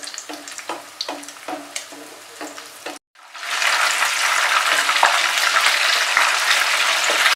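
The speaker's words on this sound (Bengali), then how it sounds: "একটু সময় নিয়েই মাছগুলোকে খুব ভালো করে আমি ভেজে নিচ্ছি।" Topse fish frying in a pan, starting with intermittent crackles and pops, then after a brief gap a loud, dense, continuous sizzle close by.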